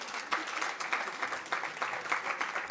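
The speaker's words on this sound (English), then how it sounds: "Can we give a round of applause as a sign of acknowledgement?" An audience at a memorial lecture breaks into a steady round of applause, a dense continuous wash of many hands clapping at moderate loudness for the whole stretch.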